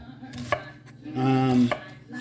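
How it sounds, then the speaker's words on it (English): A knife chops an onion on a cutting board, giving a few sharp, close knocks alongside a louder tonal scraping hum in the background. "So what I do is I kind of like face it down and face it down, as I said, and then start chopping it."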